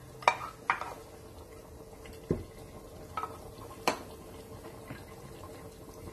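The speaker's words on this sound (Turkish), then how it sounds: "Şimdi sotelemiş olduğumuz kıl biberlerimizi ekliyoruz." Sautéed hot green peppers tipped into a pan for a spicy roasted eggplant and red pepper sauce, giving a few sharp clinks and scrapes of a utensil against the pan, spaced apart with quiet gaps, close and alone.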